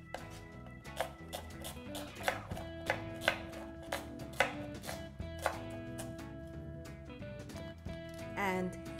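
A knife thinly slices raw onion on a cutting board, with irregular sharp taps as the blade strikes the board over a quiet background and a faint tonal backdrop.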